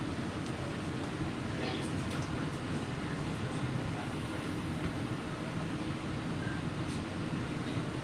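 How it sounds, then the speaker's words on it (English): Steady low rumble and rolling hum of a Walt Disney World monorail heard from inside a car during a ride, continuous and fairly loud throughout with no talking. "I don't think I've sat on a monorail in a long time."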